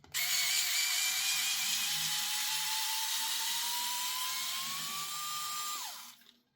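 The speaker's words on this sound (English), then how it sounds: "This screwdriver is set to a low torque setting, so we're not going to strip anything out." A power screwdriver on a low torque setting drives Torx screws into a Tapp Airsoft hybrid HPA MP9 lower, giving one steady close-up whine of about six seconds that rises slightly in pitch before cutting off.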